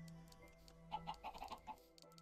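Chickens in the Minecraft video game cluck in a quick string of short, bright calls in the middle, fairly close, over a quiet steady hum with no talk.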